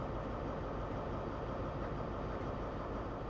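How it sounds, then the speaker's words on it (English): A Class 43 high-speed train sits at Reading in Train Sim World, giving off a steady, dense rumble of engine and rail noise that holds constant and fairly loud throughout with no voices. "We're about to commandeer this train."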